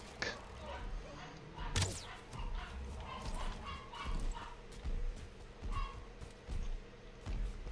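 Small dog barking and yipping in short bursts indoors, moderately close, with gaps between yelps and a person talking over it, alongside video game sounds from a modded Valheim stream.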